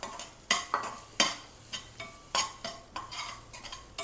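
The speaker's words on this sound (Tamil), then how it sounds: "அது கொஞ்சம் நெய்யில் வறுத்துக்கலாம் ஒரு அரை கப் தேங்காய் எடுத்துருக்கோம் அது வறுத்துடலாம்" Grated coconut, half a cup, roasting in ghee in a pan while a spoon stirs it, giving a series of close, sharp scraping clatters of metal against the pan over a faint sizzle, with no talk.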